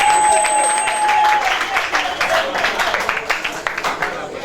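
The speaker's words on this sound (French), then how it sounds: "Acclamons très fort notre Dieu en ce soir." A congregation applauds at a church celebration, a swelling wash of clapping from many hands building into rhythmic claps, with a sustained tone fading out early and voices mixed in.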